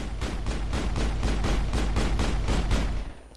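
Rapid automatic weapon fire in the video game Mass Effect: a steady string of about a dozen evenly spaced shots, loud and close, ending abruptly.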